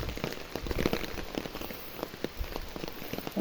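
Rain falls steadily on a surface nearby, a dense patter of drops with occasional louder individual hits, moderate in level and without any talk.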